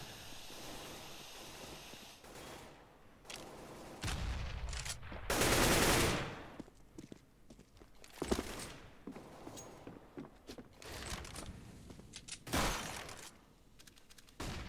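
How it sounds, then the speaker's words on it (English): Gunfire bursts in a Counter-Strike style video game: rapid rattling volleys and sharp shots recur through the round, one long loud burst in the middle, with smoke-grenade hiss and game effects between them, and no talking. "Rattles off a shot through the smoke"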